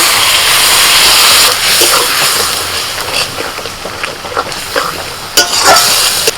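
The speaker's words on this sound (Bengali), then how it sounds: "হলুদ গুঁড়ো অল্প জল দিয়ে মশলাটা কষাবো" Ground spice paste with turmeric and a little water sautéing in a pan for khichuri, a loud continuous sizzle broken by scattered stirring scrapes and clinks.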